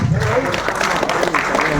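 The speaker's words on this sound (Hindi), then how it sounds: "अनीस खान वारसी साहब ने बहुत ही खूबसूरत मुशायरा सजाया। एक बार उनके लिए जोरदार तालियां।" Loud applause from the audience at an All India Mushaira, a dense, continuous burst of clapping filling the hall, close and full, with a voice speaking over it.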